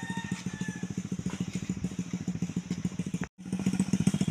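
A motorcycle putters along a narrow footpath, its single-cylinder engine beating in a fast, steady chug close by, with a brief cut near the end before the throbbing resumes.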